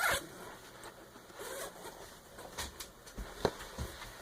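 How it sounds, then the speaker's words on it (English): A zipper on a lap desk being pulled open in a few short, raspy bursts, close up, with quiet handling noise between pulls. "If you unzip it, it requires me to find the zipper."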